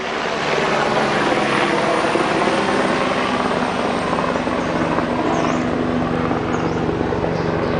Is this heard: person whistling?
no